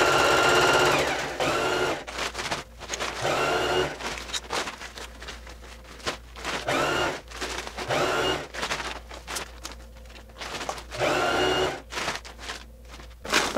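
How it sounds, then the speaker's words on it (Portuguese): A sewing machine stitching through three layers of a flour sack while making a reusable market bag, running in bursts of fast rhythmic whirring with short pauses between. "vou costurando as três camadas"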